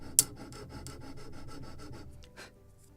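A small wooden plank for a Model Shipways 1776 gunboat Philadelphia kit is lightly sanded by hand, giving close, soft rhythmic rasping strokes in a steady run after one sharp scrape, fading out near the end.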